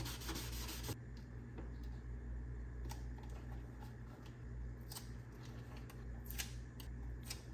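A golf cart interior being wiped clean with alcohol, a close series of soft rubbing and scrubbing strokes with a few light taps, over a low steady hum.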